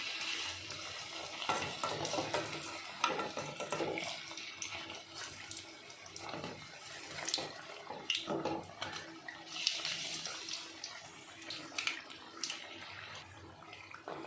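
Bondas made from idli batter deep-frying in hot oil, a steady dense hiss and bubbling crackle running throughout, close and fairly even.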